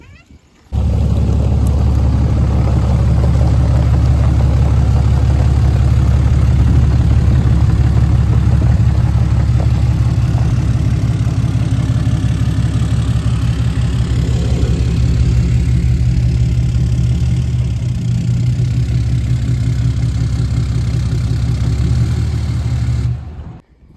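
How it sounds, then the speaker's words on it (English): A diesel pickup truck engine idles beside a barn, a loud, steady low rumble that starts abruptly, runs unbroken for about twenty seconds, then cuts off. "Let's get this truck over here by the barn and get some power."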